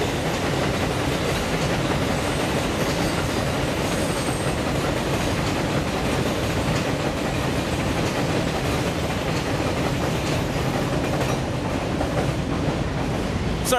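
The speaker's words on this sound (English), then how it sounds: "Sorry about that, the train was passing by." A train passes by close and loud, a dense continuous rumble and rattle of rail cars lasting throughout with faint wheel squeal.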